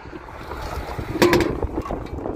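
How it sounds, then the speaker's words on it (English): Gusty wind buffets a microphone outdoors near a truck, a rough, fluttering rush that swells and fades over a couple of seconds, with no talking. "Anybody else hate the wind?"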